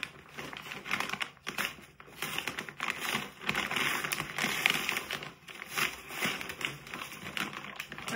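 Sealed parcel package being opened by hand, giving irregular bursts of crinkling, tearing and rustling plastic, close and fairly quiet, alone without talk.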